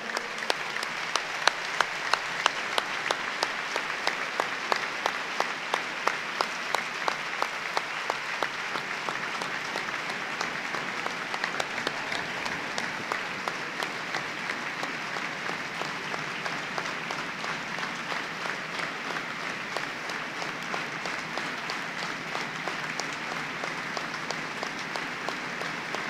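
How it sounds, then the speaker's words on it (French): A handball crowd gives a long minute of applause in memory of a club founder. Slow rhythmic clapping at the start settles into dense, steady applause that fills the arena. "je vous demanderai de vous lever et de faire une minute d'applaudissement à sa mémoire"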